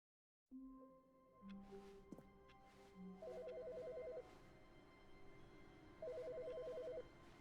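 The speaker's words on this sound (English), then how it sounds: "Is our phone ringing?" A telephone rings in the video game The Stanley Parable: Ultra Deluxe Edition, sounding two clear bursts of electronic ringing a few seconds apart over a steady ambient hum and soft musical tones.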